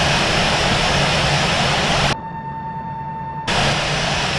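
Avianca A320 jet engines at departure in Infinite Flight, a loud, steady broadband roar that cuts out briefly to a thin whine, then returns at full strength.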